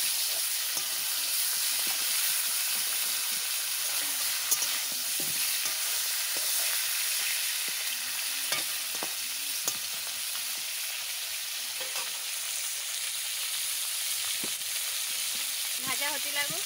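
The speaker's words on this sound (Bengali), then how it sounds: "তেল গরম হয়ে গেছে, মাছের মাথা দিয়ে দিচ্ছি।" Fish heads fry in hot oil, producing a loud, dense, continuous sizzle with scattered crackles and pops that holds steady from start to finish, with no talking.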